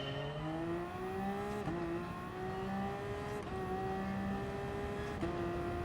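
Racing car engines in GT Sport, including a Toyota and a Peugeot hybrid race car, hold a loud steady high-revving whine, with the pitch rising through each gear and dropping sharply at several shifts.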